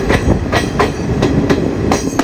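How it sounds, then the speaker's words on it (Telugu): A coal-laden goods train rolls past nearby near Manmad Junction, a loud continuous rumble with a rapid clickety-clack of wheels over rail joints throughout. "ఇటు చూడండి ఒక గూడ్స్ ట్రైన్ కోల్ వేసుకొని తిరుగుతున్నాయి మొత్తం."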